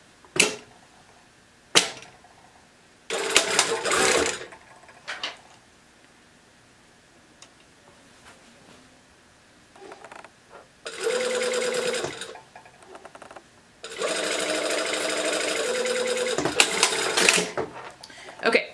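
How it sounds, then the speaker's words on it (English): A sewing machine stitches a sleeve into a dress at the underarm. It runs in short bursts of rapid mechanical clatter, one brief and two longer, separated by quiet pauses and faint clicks. "you're just gonna sew where you stopped and started at those two points under your arm"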